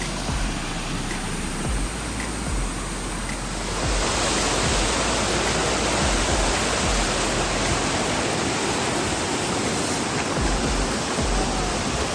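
Waterfall on Mount Igcoron, a steady loud broadband rush of falling water that swells fuller after a few seconds and continues alone without talk.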